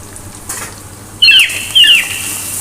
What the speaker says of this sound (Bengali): একটু ভালো করে মিক্স করে নিচ্ছি।